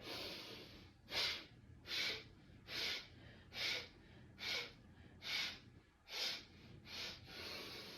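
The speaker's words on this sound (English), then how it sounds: "Really being mindful of my percussive breathing, my centering." Sharp, rhythmic percussive breaths during a Pilates exercise, about nine evenly spaced forceful exhales that are close and clear over a quiet background, with no speech.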